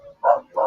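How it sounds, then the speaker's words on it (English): Two short dog barks close by, one after another, with a faint yip just before them and no talking around them. "they're literally so bored they're barking at nothing"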